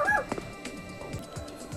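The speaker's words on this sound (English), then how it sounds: "Sorry, guys, if you hear barking." A dog barks and yelps indoors, a few sharp, moderately close barks over about two seconds, with faint background sounds from a game playing nearby.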